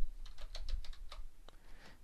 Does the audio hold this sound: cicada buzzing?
no